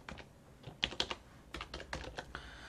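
Rapid keystrokes clatter on a computer keyboard close by, a steady run of clicks with no talking.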